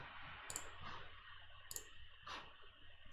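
Quiet mouse clicks on the green run button of an online coding editor, a few soft, sharp clicks spaced about a second apart over a low hum, with no talking.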